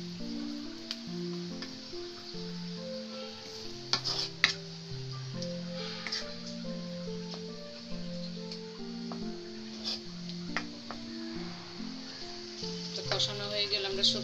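Spices for a yardlong bean and prawn curry sautéing in a pan with a splash of water, a faint soft sizzle with scattered ticks and clicks of stirring, quiet and close.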